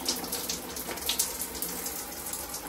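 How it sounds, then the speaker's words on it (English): A lotion pump nozzle is rinsed under running water, giving a steady, moderately loud gushing splash from a tap with no talking. "So we're rinsing this nozzle and we're pumping it out."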